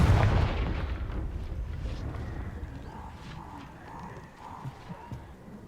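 Confringo fire spell cast in the Hogwarts Legacy video game: a loud booming burst at the start that rolls off into a rumbling tail, followed by scattered lighter impacts and game ambience.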